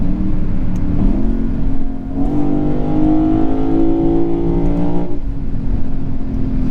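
A 2022 Lexus IS500 accelerating hard: loud engine roar climbs in pitch, drops briefly at a gear shift, then climbs again strongly, heard close from inside the cabin with no talk.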